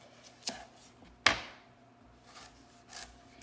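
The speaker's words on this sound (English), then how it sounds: "we're going to cut them about 1/4 of an inch to 1/2 of an inch" A knife slicing a sweet potato lengthwise on a cutting board, one sharp close chop with a short ringing tail after a lighter tap, followed by faint scraping.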